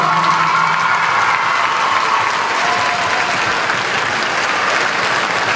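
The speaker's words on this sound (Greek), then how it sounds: "τα παιδιά χειροκροτούν με τόση αγάπη" Children applaud at a municipal closing ceremony in Pallini, a dense, loud, continuous wash of clapping filling the room with faint crowd murmur underneath.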